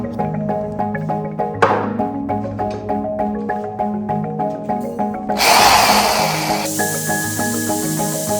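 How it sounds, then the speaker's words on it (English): A power tool cuts the ends off bent metal pieces, its harsh grinding rising suddenly and loud near the middle over steady background music, then giving way to a bright, sustained hiss. "Now I'm gonna cut off the ends just so it's at the proper length"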